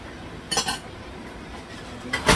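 Utensil stirring a pot of oxtail, giving two short clinking scrapes against the pot, one near the middle and one at the end, over a quiet background.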